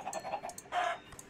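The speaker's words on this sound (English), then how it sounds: "So let's kill the chickens instead." Chickens clucking in modded Minecraft, a few quick soft clucks and squawks in a brief, faint burst with no talk.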